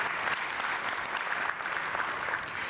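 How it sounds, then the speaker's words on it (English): Sustained audience applause at a leadership conference session honoring the national board chairman, a dense, steady clapping wash from a large crowd that continues throughout without a break. "Let's give one more round of applause for our chairman of our national board"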